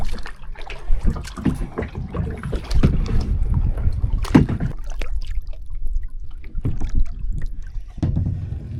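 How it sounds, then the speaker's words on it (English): Paddles splash and knock irregularly while a small boat moves across an African lake, the close strokes mixed with gusty wind buffeting the microphone. "an hour and a half paddling"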